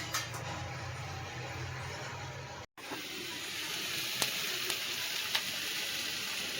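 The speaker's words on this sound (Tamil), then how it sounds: "நல்லா பச்சை வாசனை போகிற அளவுக்கு நல்லா வதக்க விடலாம்" Tomatoes sauté in a pan for a prawn thokku, a steady close sizzle and hiss that cuts out for an instant, then resumes with a few light clinks of a utensil.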